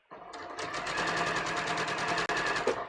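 A sewing machine stitches a garment collar seam in one steady, close run of rapid needle strokes lasting nearly three seconds, with a brief stop near the end.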